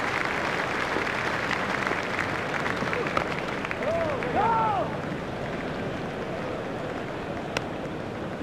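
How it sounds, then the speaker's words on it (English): A cricket crowd at a one-day match in New Zealand gives sustained applause, a dense steady wash of clapping heard from a distance, with a few faint whistles rising through it partway. "Crowd are standing to applaud him."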